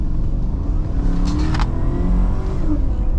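A 2016 Chevy Tahoe Police Interceptor accelerates, its engine giving a loud, steady low rumble that holds throughout with a brief higher whine, heard close up from inside the vehicle.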